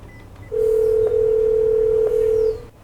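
A single steady telephone tone sounds for about two seconds as a call is placed during a staged DUI arrest scenario, loud and clear against a quiet background, with faint clicks.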